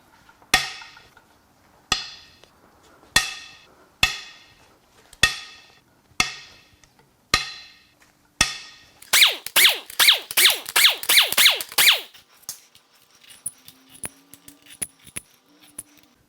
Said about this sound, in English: Let's crack these head bolts loose.